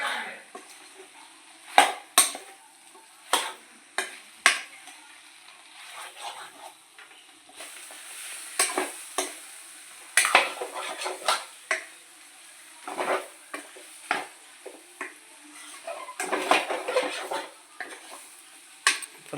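Chilli chicken stirred in a pan, with repeated scraping and clattering strokes of a spoon against metal, irregular but steady, close and fairly loud over a soft sizzle, no talking.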